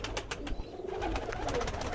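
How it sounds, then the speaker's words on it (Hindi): Pigeons of several breeds kept in a loft give soft repeated cooing, a low rolling murmur close by that runs steadily through the short stretch with no talking. "सभी नस्ल के कबूतर हैं जी अपने पास।"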